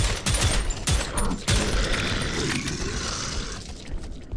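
Rapid gunfire from the retro-style first-person shooter game Prodeus, a dense burst of shots up close with several sharp cracks in the first second and a half, then a sustained noisy wash of firing that tails off at the end.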